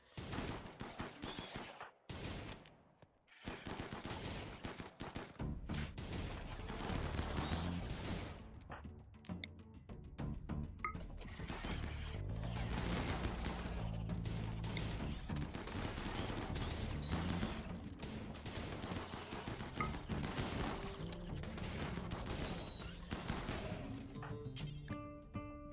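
Gunfire in the game RimWorld crackles in bursts of rapid shots that run almost unbroken across the scene, dense and layered over a low rumble, with brief pauses near the start.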